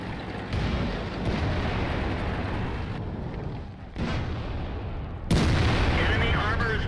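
A T28 Prototype tank in World of Tanks fires its gun, with several heavy booming shots and blasts over a dense, rumbling battle din, each abrupt burst followed by lingering noise.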